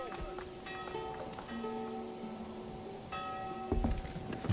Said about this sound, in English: A church bell sounds nice.